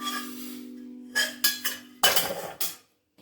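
A pan of roasted black cumin is lifted off a stove, giving a few sharp metallic clinks and knocks after a steady hum, close and fairly quiet.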